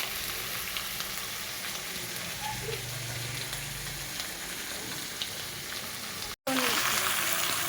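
Bay leaf and dried red chili tempering in hot oil in a home kitchen, giving a steady, close broadband sizzle that runs unbroken for several seconds and cuts out briefly near the end before resuming.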